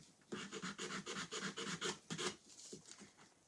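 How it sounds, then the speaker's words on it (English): Someone hand-sands the edges of a wooden Halloween boo cutout, giving quiet rhythmic rasping strokes in quick bursts, close by and alone, with a short pause before a few more rubs. "So I'm just sanding down the edges here."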